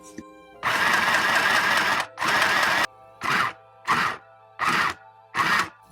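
Sewing machine stitching clothes in a series of loud, close bursts: two long runs followed by four short, evenly spaced spurts with brief silences between them.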